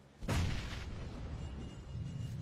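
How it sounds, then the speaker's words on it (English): A single deep, booming explosion in the game PUBG, a sudden loud blast followed by a rumbling decay that fades over about two seconds, with no voices. "explosion!"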